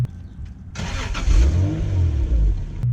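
A Nissan SE300 car engine starts and revs hard nearby, a sudden loud roar that swells and holds steady for a couple of seconds before cutting off.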